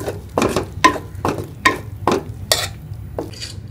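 Two spoons of honey stirred into a warm apple pudding mixture in a pan, a series of about eight rhythmic spoon scrapes and sloshes, close and fairly loud, with no talking.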